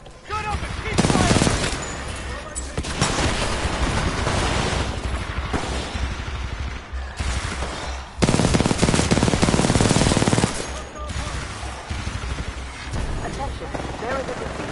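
Dense, loud gunfire from a Titanfall 2 battle, with sustained automatic fire and explosive bursts in long waves and brief lulls, and shouting voices mixed into the noise.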